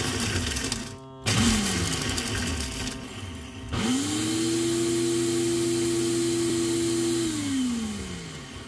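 A NutriNinja blender grinds dehydrated kimchi into powder: a short first pulse, a pause, then a longer steady high motor whir that spins down at the end, close and loud.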